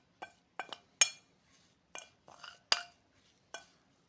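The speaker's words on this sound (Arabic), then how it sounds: "نظل نحرك فيها بشكل جيد حتى تترطب" A spoon stirs licorice root drink in a glass, tapping the sides with about eight sharp, bright clinks in an uneven rhythm, close and distinct against a quiet background.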